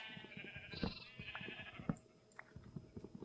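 Sheep in Minecraft bleat close and clear, two drawn-out wavering calls in quick succession, followed by soft scattered footsteps and rustling, with no talking.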